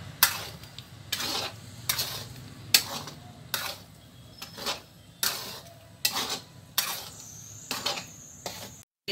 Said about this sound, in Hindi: हम गैस जलाते हैं, इसको हम भूनेंगे।